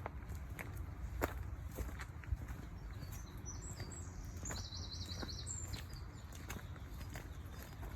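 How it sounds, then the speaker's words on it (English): Birds chirp and trill high above steady outdoor noise in a water meadow, with a few soft footstep-like thuds; the song is moderately faint and continuous. "I hope as you're walking along you're listening to all the bird noise"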